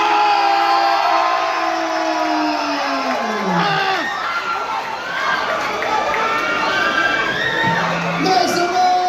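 A loud, dense crowd cheers and yells at a Red Bull dance battle in Cebu, a sustained roar of whoops and shouts carrying on throughout.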